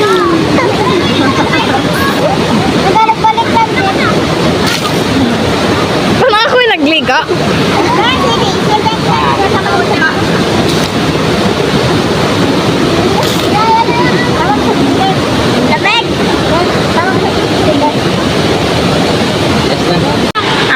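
Estrella Falls in Narra, Palawan, a waterfall pouring into a shallow bathing pool with a strong current, gives a loud, steady broadband rush that carries on without a break, with voices occasionally mixed in.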